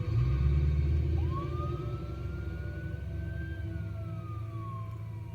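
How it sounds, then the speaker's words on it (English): An ambulance siren from the Spider-Man 2 video game on PS5 rises into a single long wail that slowly falls off again, sounding over a low, steady rumble of city traffic. "That's why they got the ambulance."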